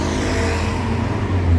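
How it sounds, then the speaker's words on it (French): Loud, close street traffic in a city near a metro exit, a continuous engine rumble of passing cars with a low roar that swells toward the end. "On va rien entendre avec la circulation"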